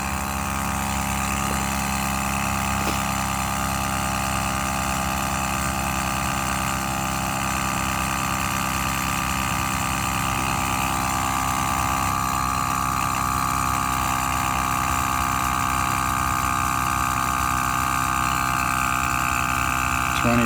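An air compressor runs steadily during a tank test, a loud, constant mechanical drone with a pumping hum that holds at one level from start to finish, close to the listener.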